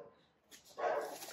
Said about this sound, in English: I got interrupted by my dog as usual.